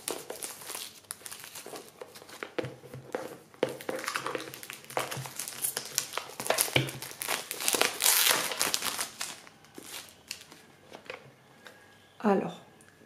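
Wrapping crinkles and crackles as the rigid box of a Guy Trédaniel Amenti oracle card deck is opened, a close, busy rustling that runs throughout, with a brief voice near the end.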